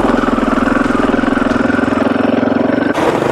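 A 500 motorcycle, restarted after two months off the road, runs loud and close with a fast, even throb and popping in the exhaust pipe. Near the end the note shifts abruptly.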